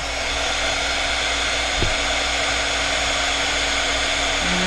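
A hair dryer blows to dry glue, a loud, steady close-up roar with a constant whine running throughout and a faint thump near the middle, no talking.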